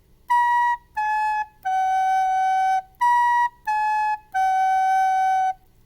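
Recorder playing the first measures of Hot Cross Buns twice: three clear descending notes, the last held longer, then the same pattern repeated, close and clean with no talking.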